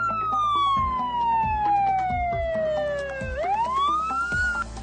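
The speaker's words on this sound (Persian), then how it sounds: "تصور ما اینه که صدای آژیر آمبولانس ها یه صدای ثابته" A loud ambulance siren wails close by, its tone sliding slowly downward before sweeping back up, with a low engine rumble beneath.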